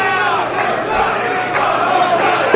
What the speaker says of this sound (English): You hear the crowd asking for one more time.